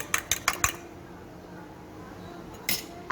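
Beaten eggs mixed with a utensil in a bowl, a quick run of four clinking taps at the start, then quiet, with two more clinks near the end.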